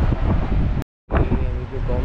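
Strong wind buffets the microphone in loud gusty rumbles, cut by a brief silent gap, with a voice faintly underneath.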